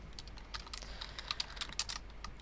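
Quiet typing on a computer keyboard, a quick irregular run of light clicking keystrokes up close against a low background hum, with no talking.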